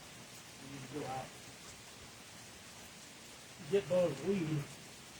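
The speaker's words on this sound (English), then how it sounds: "It is getting soaked in the rain." Outdoor rain falls as a faint, steady hiss under someone speaking briefly in two short bursts.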